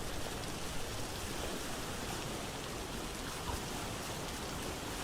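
Steady rain hisses evenly in the video game Vintage Story, a dense, unbroken wash of falling drops with no talk over it.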